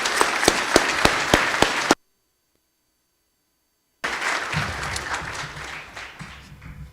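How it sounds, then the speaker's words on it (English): An audience at a South Jersey community salutes ceremony claps, a few sharp rhythmic claps, then a stretch of total silence, followed by a softer, diffuse round of applause with murmuring underneath. "Have a round of applause for our community salutes"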